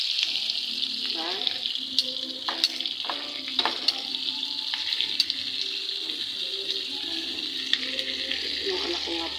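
Food fries in a pan with butter, oil and soy sauce, a steady bright sizzle at close range, punctuated by clinks and stirring sounds, with no voice over it.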